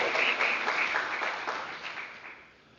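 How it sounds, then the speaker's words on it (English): Brief applause from a graduation ceremony audience, a steady patter of clapping that fades out gradually over about three seconds, fairly distant and soft. "Can we please have one more round of applause?"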